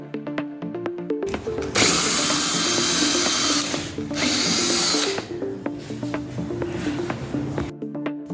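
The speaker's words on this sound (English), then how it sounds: "So that is basically drilling the holes for the handles." A power drill bores holes for handles in kitchen cupboards during a renovation, whirring loudly in two sustained bursts separated by a short pause, with lighter mechanical ticking before and after and no voices.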